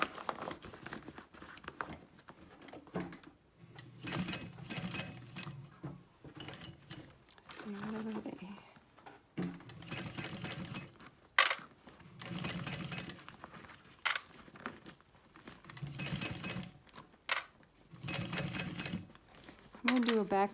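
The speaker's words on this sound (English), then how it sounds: "I'm going to do a back stitch over my D-ring, because again, this is kind of a stress point" A sewing machine stitches a handbag in bursts of rapid mechanical chatter, starting and stopping repeatedly with short pauses between runs, fairly close and moderately quiet.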